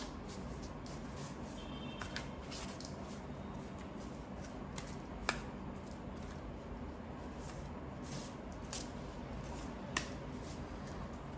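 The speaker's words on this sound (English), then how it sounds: "I will shuffle the deck pretty well because it was in a sequence." Quiet, repeated riffling and snapping of an oracle card deck being shuffled, with soft clicks scattered throughout against a low hiss.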